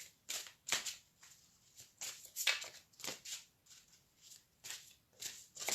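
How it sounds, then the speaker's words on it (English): Tarot cards are shuffled by hand close up in quick riffling bursts, a soft papery flutter repeating in an irregular rhythm, faint and without talk. "while I'm shuffling the cards"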